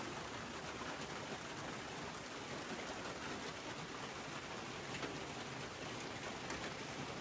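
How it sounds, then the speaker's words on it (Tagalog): Steady, dense rain falling heavily outdoors, a continuous close wash of hiss and patter with no pauses and no voices. "Pag ganito umuulan."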